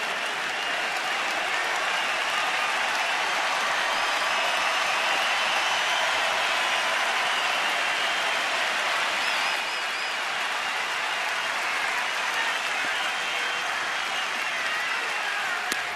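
A large baseball stadium crowd in Washington cheers and applauds steadily during an Atlanta at Washington game, a dense, even roar of clapping and voices that holds at a constant loud level throughout with no break.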